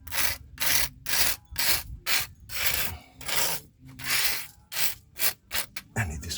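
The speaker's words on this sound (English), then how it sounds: "I'm just trying to get some of this rust out of the way." Close, rhythmic scraping strokes against rusty brake parts on a Chevy Blazer, about a dozen harsh rasping passes with brief pauses between, quickening toward the end.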